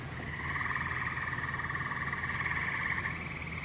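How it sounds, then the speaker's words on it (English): A chorus of frogs croaks in a steady pulsing trill that rises and holds for a few seconds, moderately faint and outdoors among trees, with no talking over it. "of course the frogs won't shut"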